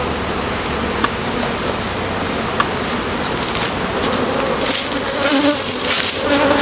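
Honey bees drone steadily around an opened single brood chamber hive box with frames, a dense close buzz that swells slightly toward the end.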